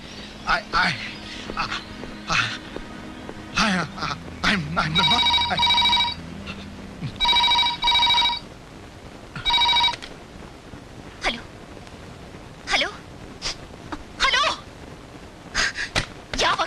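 A telephone bell rings in several short bursts, mixed with people talking and other scattered noises.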